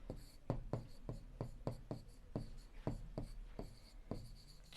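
Chalk or pen marks written out in short, regular strokes while solving a linear equation in a class 7 maths lesson, each stroke a crisp scratch repeating steadily and close, with no talk over it.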